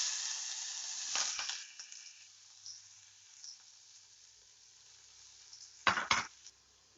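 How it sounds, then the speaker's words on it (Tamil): Tempering for a cabbage and carrot poriyal stir-fry: a faint, steady sizzle of frying, with two sharper bursts of crackling or stirring clatter. "இப்போ கேபேஜ் கேரட் பொரியல் தாளிச்சிக்கலாம்."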